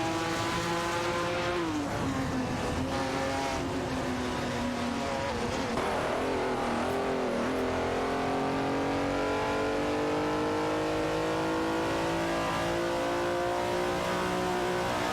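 Engines of race cars speeding around a track in an AI-driven racing video game roar loudly and continuously, their pitch rising and sliding as the cars accelerate and shift, with several engines overlapping.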